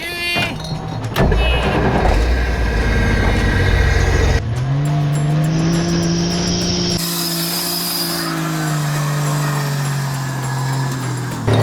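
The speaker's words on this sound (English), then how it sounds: "Trail Santa going for a ride in the shit box?" A leaf-sprung Jeep CJ7 off-road rig works along a trail, its engine rumbling loud and close, revving up then settling into a steady droning pull with some clattering early on.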